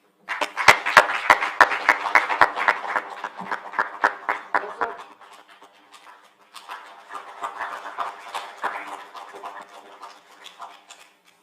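A round of applause from a conference audience welcoming a guest, sharp scattered claps at first thinning out, then a second softer burst of clapping from a moderately distant crowd.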